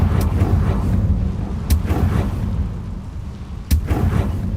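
A Confringo fire spell is cast in Hogwarts Legacy, giving several sharp booming blasts with rumbling tails spaced a second or two apart over a low, continuous rumble.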